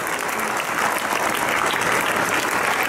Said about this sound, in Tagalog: isang malakas na palakpak para sa mga guro na nakiksa sa ating pagrampak